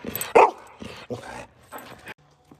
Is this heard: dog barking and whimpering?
yes